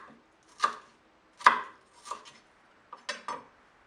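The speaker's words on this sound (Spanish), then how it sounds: "Cortamos las tiras y después las reducimos a cubos." A knife chops vegetable strips into small cubes on a cutting board while making a Latin American-style tart: five or six sharp, close knocks in an uneven rhythm, separated by short quiet gaps.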